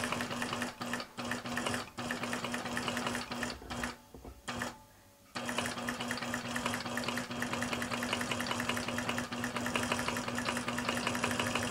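An iQ quilting machine stitches appliqué on fabric with a fast, steady mechanical whir and needle chatter, briefly stopping and going quiet before resuming at a constant pace, close up and with no talk.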